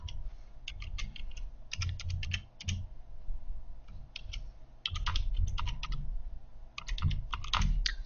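Fingers type an email address on a computer keyboard during a Photoshop Lightroom tutorial, with close, rapid key clicks in bursts and brief pauses and a low hum underneath; no one talks.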